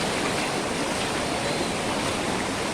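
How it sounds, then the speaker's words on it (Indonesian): Fast-flowing floodwater in a river running along a levee in Jau village, Aceh Utara, rushing with a steady, dense roar like a stream or waterfall, close and continuous throughout with no voices. "Laju air kencang."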